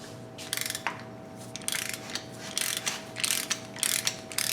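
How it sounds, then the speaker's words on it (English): An old gauge sending unit being screwed into a Trans Am engine, a series of close, short ratcheting and metallic scraping bursts in irregular rhythm, with no talk. "I'm just going to screw this in."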